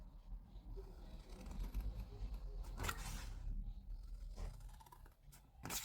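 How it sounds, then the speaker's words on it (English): Scissors cutting along the score lines of a milk carton, soft irregular snips and cardboard rustle at close range, faint and quiet throughout. "So I'm going to grab my scissors, and you're going to cut up these score lines here."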